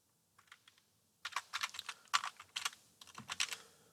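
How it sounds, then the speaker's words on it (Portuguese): Keys clatter on a computer keyboard, starting with a few light taps and then quickening into a steady burst of close typing, including presses of the Tab key while filling in a table in AutoCAD. "eu posso simplesmente pressionar na tecla Tab do teclado"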